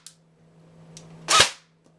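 An airsoft gun fires a 0.20 gram BB through a homemade chronograph: one sharp, loud close-up pop with a short bright tail, preceded by faint clicks over a low steady hum.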